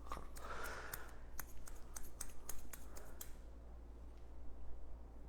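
Thinning scissors cut hair, giving a rapid series of crisp metallic snips that then stop, with no talk over them.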